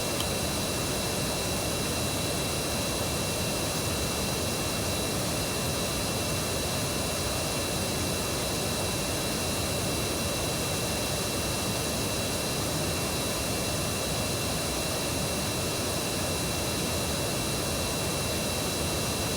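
Simulated Airbus A350-1000 jet engines in a flight simulator game, taxiing to the gate: a steady, even broadband roar with no change in level, continuous throughout and heard alone.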